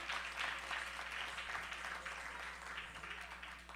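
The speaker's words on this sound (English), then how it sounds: "let's give another round of applause to that beautiful performance by Vedanishta." An audience claps after a devotional performance at a Hare Krishna Vyas Puja celebration: a steady, moderately loud wash of applause that continues throughout and eases slightly toward the end.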